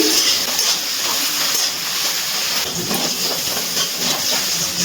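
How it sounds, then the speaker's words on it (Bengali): Eggplant pieces frying in oil in a wok over a low gas flame give a steady, close, broadband hiss and sizzle that runs unbroken throughout, with no one talking. "গ্যাসের ফ্লেমটা একদম লোতে রেখে বেগুনগুলো ভেজে নিচ্ছি।"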